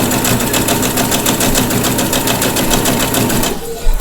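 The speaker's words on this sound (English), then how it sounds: "Put the presser foot back down and sew again." A sewing machine stitches fabric for a pillow, running at a steady fast whir with rhythmic needle clatter, close and loud, then stopping abruptly near the end.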